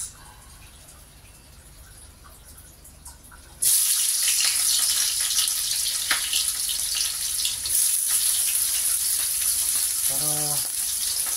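Sliced onions hit hot oil in a pan while cooking dinuguan, setting off a loud, steady hiss and crackle that starts suddenly after a quieter stretch and sizzles on continuously, with a faint voice briefly underneath.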